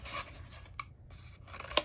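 Scissors cut paper for an art project handle, with a few quiet, sharp snips spaced irregularly across a short, near stretch.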